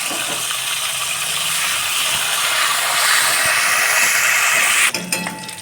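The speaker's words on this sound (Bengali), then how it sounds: "এখন ফুলকপিগুলোকে ভেজে নেওয়া হচ্ছে।" Cauliflower florets sizzle steadily in hot oil for a Bengali mixed-vegetable dish, a constant bright hiss near the pan that ends with clinking of utensils.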